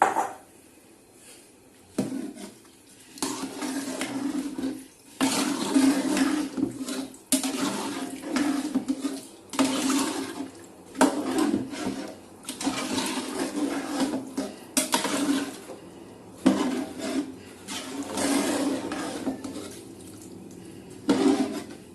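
Water splashes and gurgles as it is poured in repeated bursts into a pot of soaked rice for junglee pulao. The pours come close and fairly loud, with short pauses between them.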